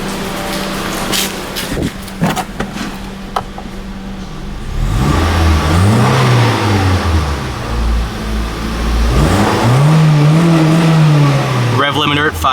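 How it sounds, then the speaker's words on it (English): A 2001 Honda Civic EX coupe engine is revved twice while parked, climbing loudly toward a 5,000 RPM rev limiter each time and then falling back, with idle and a few clicks between the revs. "Go ahead and give this one a quick rev."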